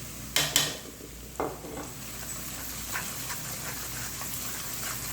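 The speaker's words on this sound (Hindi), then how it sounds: "बस हम तकरीबन 30 सेकंड के लिए मसालों को अच्छे तरीके से कुक करेंगे" Spices sizzling and frying in a pan of oil with ginger and garlic for restaurant-style white daal mash, a soft steady crackle with a few louder stirring scrapes near the start.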